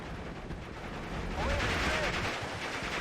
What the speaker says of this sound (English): My poor Western Lysander gets strafed to pieces by the Focke-Wulf 190.